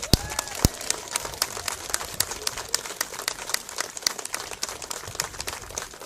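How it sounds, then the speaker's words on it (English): Applause for two football teams at a schoolboys and girls league final: a crowd clapping in a steady scattered patter, moderately distant and fairly quiet. "can we just give the two teams a big, huge round of applause?"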